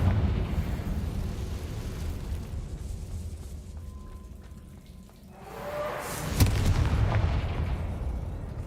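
A Confringo fire spell blast in Hogwarts Legacy erupts as a sudden sharp burst that swells into a rumbling, crackling roar over a low game ambience, with no talking.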